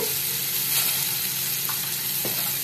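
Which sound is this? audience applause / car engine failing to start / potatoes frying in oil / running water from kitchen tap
potatoes frying in oil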